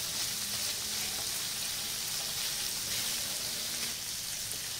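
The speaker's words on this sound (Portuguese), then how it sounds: "enquanto nossa carne de porco já está fritando junto ao nosso bacon aqui" Pork and bacon sizzling together in a hot pan while making yakisoba, a steady close crackle of frying fat with a faint stirring texture throughout and no talk.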